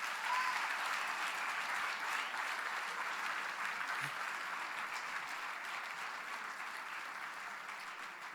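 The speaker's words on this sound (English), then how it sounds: "can we give the Honorable Executive Mayor another round of applause?" Sustained applause from the audience at a State of the Metro address in Buffalo City, acknowledging the Executive Mayor, steady and dense throughout and slowly easing toward the end.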